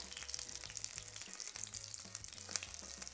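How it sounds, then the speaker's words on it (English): Cottage cheese pancakes sizzling in frying oil, giving a steady, fine crackling and popping that sounds fairly faint and close, with no voices. "stay back a little bit because the cheese melts and the oil don't get splattered"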